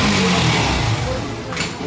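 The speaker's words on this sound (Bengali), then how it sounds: "এখন স্টার্ট হয়ে গেছে গাড়ি।" A Yamaha FZ V2 motorcycle engine running just after its fuel pump was replaced, a close, loud idle with a brief rev and no talk.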